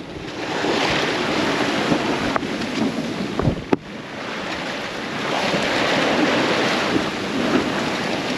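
Gusty wind and rushing waves aboard a sailing boat, a constant loud hiss of wind on the microphone over sloshing water, with a couple of sharp knocks partway through and no talk.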